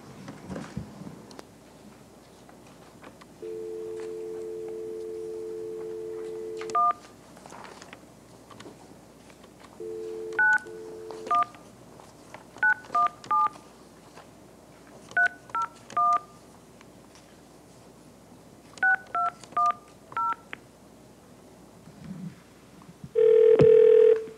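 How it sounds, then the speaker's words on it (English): Telephone line tones on a phone-in connection at a public meeting: long steady dial-tone bursts, then quick series of paired keypad beeps, ending with a louder sustained tone, all clear over quiet background. "The next person to speak by phone is Gabby Klein."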